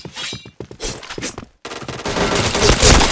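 Video game gunfire snaps out in quick separate shots that score a chained headshot, followed by a brief pause and then a dense, sustained burst of firing.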